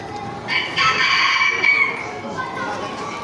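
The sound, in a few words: rooster crowing in the morning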